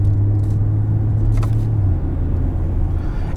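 Steady engine drone from a 2020 BMW X4 M40i with the B58 inline-six while driving, a low continuous rumble heard from inside the cabin, no talking.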